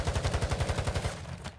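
Rapid automatic gunfire from a helicopter in Call of Duty Warzone 2.0 DMZ, a loud, evenly spaced burst of about fifteen shots that stops abruptly near the end.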